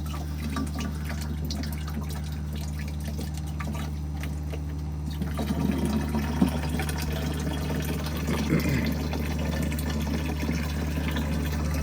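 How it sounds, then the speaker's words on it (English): A SimPure T1-400UV reverse osmosis water filter runs and flushes its new filters, a steady low hum beneath faint dripping and trickling water that grows a little louder midway. "So now we'll turn it on and kind of flush those filters out."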